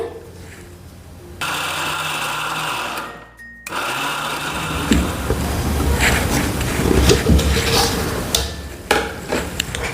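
A kitchen mixer grinder coarsely grinding soaked ingredients for fasting appe, a loud whirring motor in bursts with a brief pause, rattling and rising in pitch, close up.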